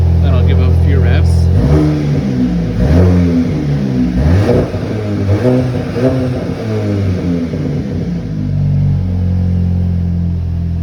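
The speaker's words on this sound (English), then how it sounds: "I just start up the car, then I'll give a few revs." A VW MK7 GLI engine running close by and revved several times, the pitch climbing and dropping in a series of rising pulls over a steady idle rumble, with someone talking over it.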